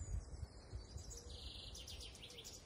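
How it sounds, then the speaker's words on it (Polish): Songbirds chirp and trill faintly in a spring garden where trees are budding, their quick high notes running over a low background rumble and a few soft thumps. "Ptaszki śpiewają."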